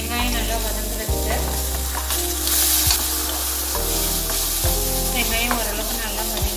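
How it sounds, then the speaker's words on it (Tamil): Chopped large onions sautéing with a pinch of salt in a pan, a steady close sizzle with occasional stirring scrapes, continuous and fairly loud throughout with background music tones. "கொஞ்சமா உப்பு சேர்த்துக்கிறேன் வெங்காயம் நல்லா வதங்குறதுக்கு"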